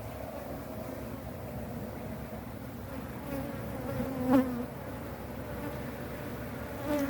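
Honey bees swarm over comb at an open hive, their steady close buzzing drone continuous, with occasional louder passes near the listener.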